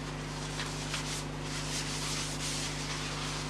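Yorkshire Grit abrasive paste is rubbed by hand onto a hand-turned wooden fruit bowl held on a stationary lathe, making a continuous close scrubbing hiss with small surges of friction.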